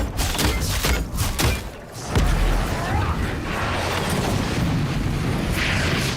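An explosion in the video game Avowed rumbles loud and low, with dense booming noise and thuds that keep rolling for several seconds after a short drop in level.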